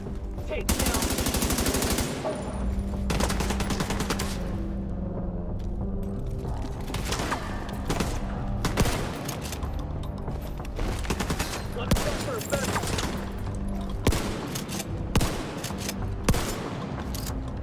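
Sustained gunfire and rapid automatic bursts from The Division 2 video game fill the clip, dense and loud throughout with repeated sharp cracks and booms, a voice faintly mixed underneath.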